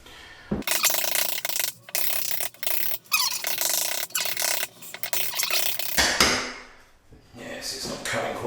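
A chisel pares into a hardwood door to cut a recess for a rim lock, producing repeated close scraping and knocking bursts in short uneven strokes, with a brief pause and some quieter handling toward the end.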